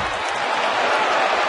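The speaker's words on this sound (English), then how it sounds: "Listen to that crowd" A large baseball stadium crowd roars and applauds in a continuous loud wash of cheering, with no break and no single voice standing out.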